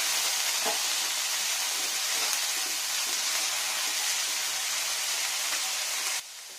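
Egg masala frying in a pan, a steady broadband sizzle that stays loud and even for about six seconds, then drops abruptly to a quieter hiss near the end.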